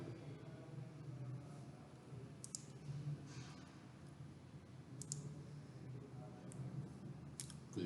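Sparse, faint computer mouse clicks sound every couple of seconds over a quiet room hum, with no one talking.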